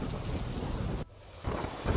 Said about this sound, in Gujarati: ગીર સોમનાથમાં સતત બીજા દિવસે આ વરસાદ જોવા મળી રહ્યો છે